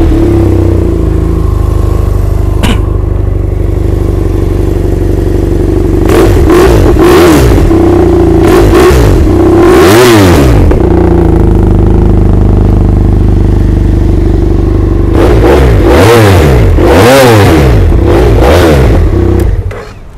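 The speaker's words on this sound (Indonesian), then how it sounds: "mari kita cuba tengok ini BMW F800R Akrapovic exhaust bunyi dia macam mana" A 2015 BMW F800R motorcycle fitted with an Akrapovic exhaust idles loudly and close, then revs hard several times in short bursts, each throttle blip rising and falling back to the rumbling idle.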